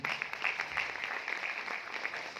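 A brief burst of audience applause, many hands clapping in a dense, fairly faint patter that holds steady for a couple of seconds.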